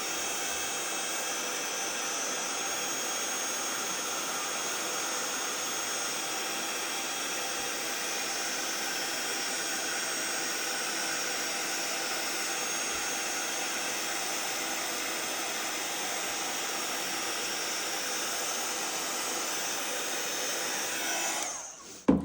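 A heat tool blows a steady, even whoosh of hot air over a stamped card image for about twenty seconds, close and continuous, cutting off with a brief click at the end.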